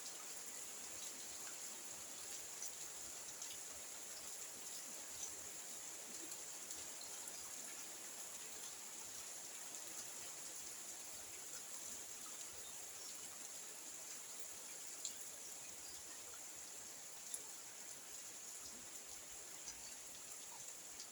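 Steady evening rain falls softly and evenly, a faint continuous hiss with occasional louder drips, no voices.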